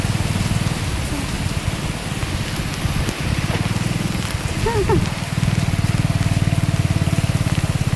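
Steady night rain patters and drums on a surface throughout, with a continuous rhythmic hum beneath and a few brief faint sounds over it.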